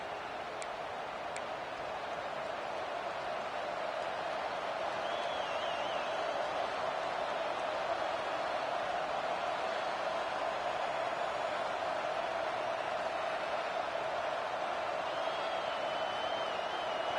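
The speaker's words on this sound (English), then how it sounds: "This crowd ready to make its presence known." A football stadium crowd at a season-opening college game keeps up a steady, distant, wash-like roar from start to finish, with a faint whistle-like tone drifting above it.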